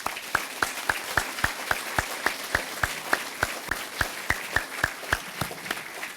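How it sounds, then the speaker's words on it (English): Rhythmic claps ring out at an even pace over a low crowd murmur, sounding like a small audience applauding at a business awards event. "Can we please give these companies a round of applause?"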